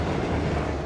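A high-speed train runs in The Legend of Heroes: Trails of Cold Steel II, a brief, steady rumbling roar of rolling rail cars with no talking.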